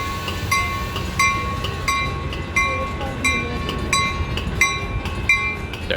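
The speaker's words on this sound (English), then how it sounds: "You could actually hear the trolley we were on leaving." A trolley pulling out of a station, with steady low rumble and repeated metallic clinks and squeals from wheels on rail, heard continuously at moderate distance.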